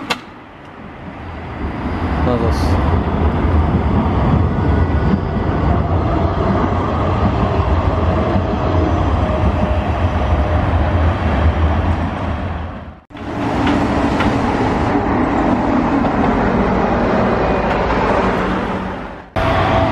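Trams pass along a city street in afternoon traffic, a loud sustained rumble and rolling clatter of rail wheels that fades briefly and then swells again as another tram goes by, with no talk.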